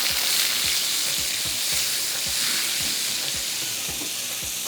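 Butter tadka sizzles and crackles in a hot pan with a little oil, a loud, steady frying hiss that runs without a break, with no one speaking.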